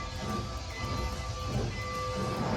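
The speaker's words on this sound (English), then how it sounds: "We're about to ride the train." Tourist train ride at Icon Park on International Drive in Orlando, Florida: a steady rolling rumble with faint rhythmic clicking and a thin hiss, continuous and moderately loud throughout.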